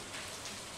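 Steady rain ambience in the farming game Stardew Valley, a soft continuous hiss of falling rain with no other sounds, brief and even in level.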